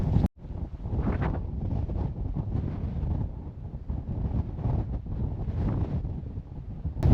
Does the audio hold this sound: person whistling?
no